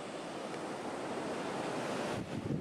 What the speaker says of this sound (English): You can see the water flowing out of the two spillways,